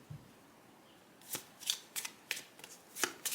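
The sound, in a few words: shuffling tarot cards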